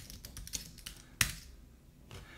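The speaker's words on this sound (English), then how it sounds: "So we're going to type sudo lsblk." A computer keyboard is tapped in a short flurry of soft, quick keystrokes, then one firmer key press and a final tap, heard close and quiet with no voices.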